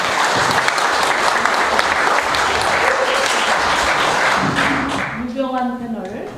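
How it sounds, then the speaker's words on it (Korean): Audience applause at a public debate on a municipal waste incinerator, sustained clapping from a crowded hall. A voice starts speaking over it as the clapping thins near the end. "큰 박수로."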